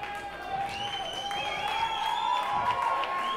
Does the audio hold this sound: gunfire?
no